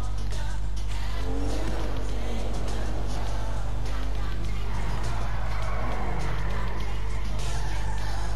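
A Porsche in Grand Theft Auto V drives with a steady engine drone, with tire squeal and skidding rising over the low rumble.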